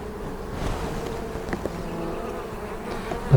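Honeybees buzz steadily around an open spring hive with a low population during an inspection, a continuous close drone with a few brief louder passes and no talking.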